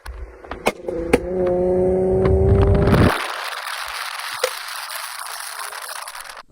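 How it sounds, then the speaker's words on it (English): A Hyundai Genesis Coupe V6 revs hard through its aftermarket exhaust, a tonal engine note holding and building for about three seconds, then cutting off into faint crackles and ticks as it settles. "If I can get the sound of his exhaust."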